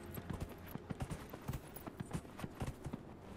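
A horse gallops in the Dragon Age: Inquisition video game, its hooves striking in a quick, uneven rhythm of close, muffled thuds that keep on without a break.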